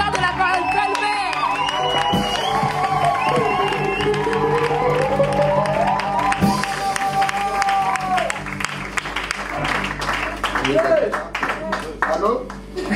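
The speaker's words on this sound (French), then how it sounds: "sous des cris de joie, des acclamations, nous allons accueillir l'homme de feu" A church crowd at an evangelical youth mission event cheers, whoops and applauds to welcome a preacher, loud and sustained with bursts of shouting and a voice calling over the noise.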